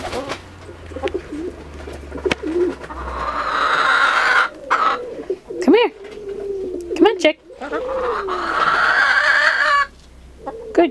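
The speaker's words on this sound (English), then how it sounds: "There's a pigeon on my face" A pigeon coos loudly right up close in repeated throaty bursts, joined by clucking chickens nearby, while a voice coaxes and calls in between.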